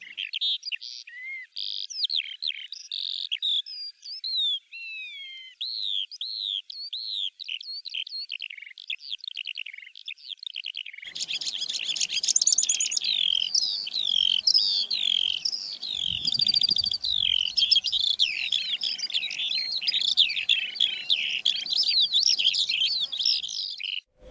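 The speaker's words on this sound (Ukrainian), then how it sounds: "жайворонок польовий" Eurasian skylark song in spring, a continuous run of high, rapid warbling trills and chirps, joined midway by a denser, louder layer of song with faint low background noise.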